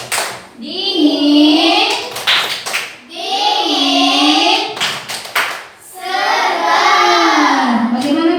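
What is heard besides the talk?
children's rhythmic 'ice cream' clapping chant for the red group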